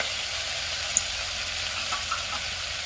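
Potatoes hit the pot of basmati rice and moong dal khichdi and set off a steady, soft sizzle that holds through the clip, with a couple of faint clinks and no voices.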